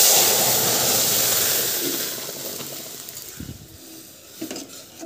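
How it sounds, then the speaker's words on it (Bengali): Masoor lentil dal poured into hot oil with dry red chilli and whole cumin. A loud hissing sizzle fades steadily over several seconds, with a few soft clinks near the end. "একটু নাড়াচাড়া করে এবার এই ডালটাকে আমি ঢেলে দিচ্ছি।"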